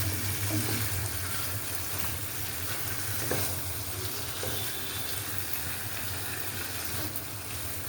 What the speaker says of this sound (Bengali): এই জায়গায় আমি মাংসটা সুন্দর করে হালকা ভাজা করে নিচ্ছি